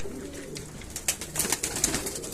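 Domestic pigeons of the Rumani or Shadri breed coo close by, soft low repeated calls with a few sharper flutters and rustles in a quiet coop.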